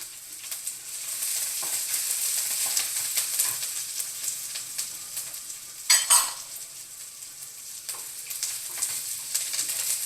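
Chopped onion and curry leaves fry in a pan for ragi vegetable upma, a continuous close sizzle with occasional stirring scrapes and one sharp utensil clatter partway through, no talking.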